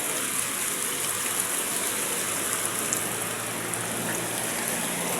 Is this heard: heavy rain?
yes